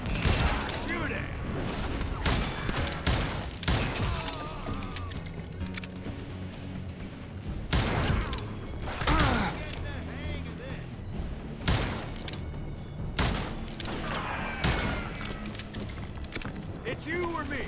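Gunfire rings out in the Western shooter game Call of Juarez Gunslinger, with loud, sharp shots bursting in irregular volleys over busy game background sound and occasional voices.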